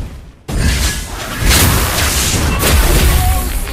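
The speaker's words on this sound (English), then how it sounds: "Your team destroyed a turret!" A booming explosion as a turret is destroyed in Mobile Legends: Bang Bang, a sudden loud blast followed by dense rumbling game effects that continue for a few seconds.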